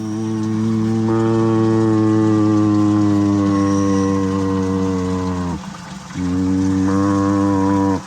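A cow lowing in long, deep, sustained moos, loud and close, with one brief break before the call resumes, no talking over it.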